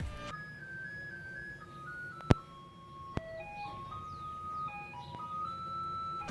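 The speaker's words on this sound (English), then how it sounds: "every morning I would hear this like twinkling music" A twinkling music-box style jingle like an ice cream truck tune, heard on a morning street in Valparaiso, Chile, plays a slow melody of sustained tones over a low background hum, with two sharp clicks.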